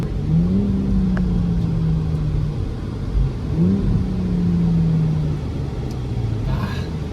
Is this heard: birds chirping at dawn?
no